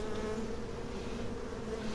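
A dense, steady hum of many honeybees buzzing together around a hive, continuous and close, with no pauses.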